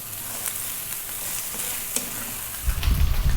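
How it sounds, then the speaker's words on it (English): Rice sizzles and crackles steadily in a hot pan, close and fairly quiet, with a louder scraping stir near the end. "That is your rice frying."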